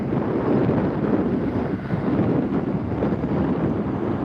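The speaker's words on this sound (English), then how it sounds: "it is extremely high winds today" Extremely high wind buffeting an outdoor microphone at a large construction site in Austin, Texas, producing a loud, continuous rumbling roar that gusts and dips briefly before surging back.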